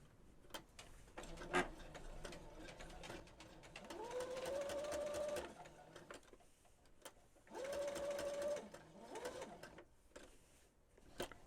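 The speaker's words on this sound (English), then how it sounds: "I think I'll stitch it in a zigzag" A sewing machine zigzag stitches a fabric journal cover in two steady whirring bursts of a few seconds each, close by, with quieter handling sounds in between.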